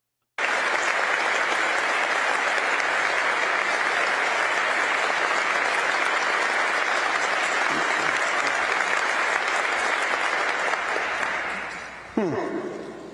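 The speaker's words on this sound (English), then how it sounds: "They clap longer for you." An audience at a religious talk applauds steadily for about twelve seconds, loud and dense, then the clapping thins out and fades as a voice begins.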